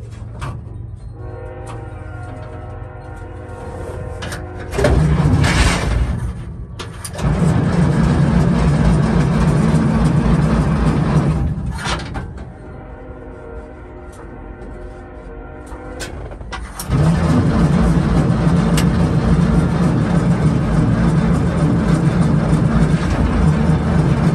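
An old 1948 Dodge farm truck's engine cranks over with a heavy, labored churn, stops, cranks again in long loud bursts, then catches and keeps running with a steady low rumble, no voices heard.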